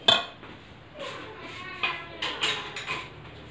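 Chopped fruit, bananas and apples, dropped into a bowl for fruit chaat, giving a few light scattered clinks and soft thuds of pieces landing and knocking against the dish.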